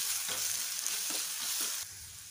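Curry leaves hitting hot oil in a pan while making restaurant-style veg pulao, a close, steady hissing sizzle with bursts of crackle that drops to a softer fry near the end.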